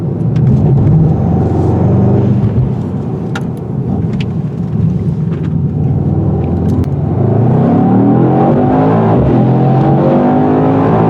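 A 2021 Mercedes-AMG E63 S sedan accelerates hard, its engine rumbling loudly and climbing through the revs with a gear change along the way, with no talking over it.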